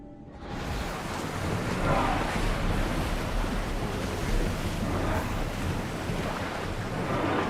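Ship sailing on sea waves in Assassin's Creed Odyssey, a broad continuous wash of surf and wind rising in after a short start, with swelling and ebbing waves throughout and no talk.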